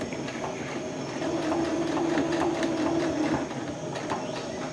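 A sewing machine stitches a hospital-grade protective mask with a wire nose piece, running steadily in a close, rhythmic mechanical whir with faint clicking, alone without talk.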